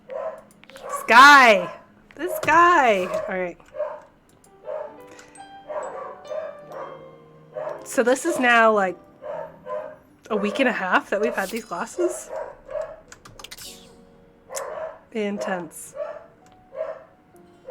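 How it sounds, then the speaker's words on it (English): Corgis bark loudly in repeated yapping bursts nearby, and a person talks over and between the barks throughout. "the corgis are in fact barking very loudly"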